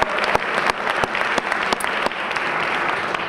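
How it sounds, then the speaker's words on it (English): An audience at the 2019 Jersey City Women of Action awards ceremony applauds the MC, a dense, steady wash of many hands clapping with a few sharper individual claps standing out, no voices. "Can we give her a round of applause?"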